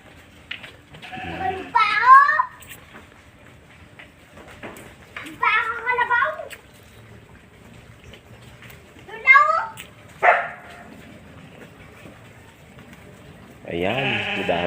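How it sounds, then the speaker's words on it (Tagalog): Goats and sheep bleat in several separate bursts, fairly close, with quiet pauses between calls and a longer cry near the end. "May kambing. May tupa."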